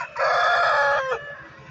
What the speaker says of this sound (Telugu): ఫుల్ హుషార్లో అయితే ఉంది పుంజు.